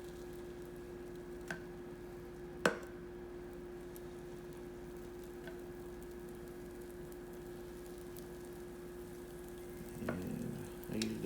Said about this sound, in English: Start putting my batter on the griddle.